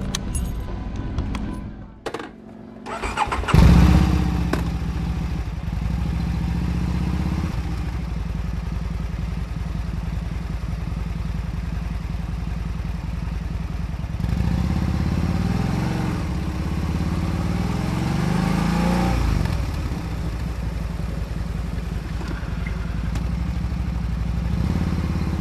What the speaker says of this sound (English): You want to hear your motorcycle growl, you know, and this leaves a lot to be desired